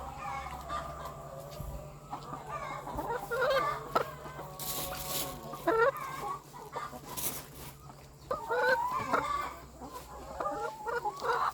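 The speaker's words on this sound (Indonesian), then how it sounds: "saya berada di sekitar ayam petelur saya ini" Laying hens kept in a semi-free-range farm cluck and squawk continuously, several birds calling over one another at close range against a low steady background hum.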